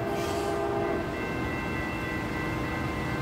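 CSX Office Car Special passenger train passing a railroad crossing at Northwest 135th Street in Miami, Florida, a loud steady rumble of rolling cars close by with a faint horn tone fading early.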